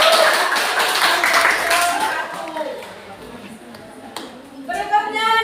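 Classroom applause from students after a group presentation, a dense burst of clapping that fades over a few seconds, with voices speaking toward the end.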